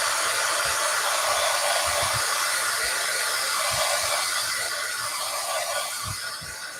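A heat tool blows steadily, loud and close, drying painted craft work, a continuous airy whoosh lasting throughout with faint low thumps beneath it.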